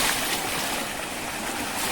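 Water pouring and flowing at a village stream, falling as from a small dam, gives a steady, close, broadband rush with no breaks and no voices.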